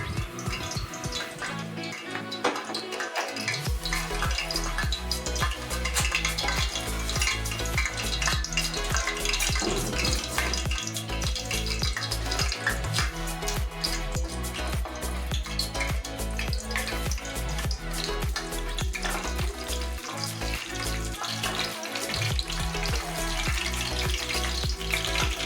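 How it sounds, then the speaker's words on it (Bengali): Bay leaves sizzling in hot oil and ghee in a wok while cooking Kolkata Mughlai style mutton chap, a loud steady frying crackle running continuously and close, with no talking. "দু তিনটে তেজপাতা দিয়ে তেল ঘিটা আমার গরম হয়ে গেছে।"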